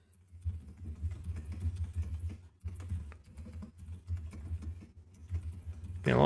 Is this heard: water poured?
no